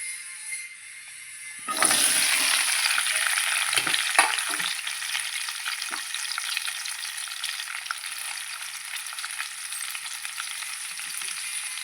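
Pieces of tindora (ivy gourd) drop into hot oil and set off a loud, steady sizzle that holds through the whole stretch, with a few soft pan knocks early on and no voices.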